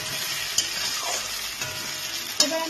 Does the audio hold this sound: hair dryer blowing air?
no